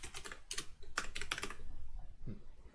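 Typing on a computer keyboard while entering a Unity package name, heard as a close, quick run of clicky keystrokes in short bursts with brief pauses between them.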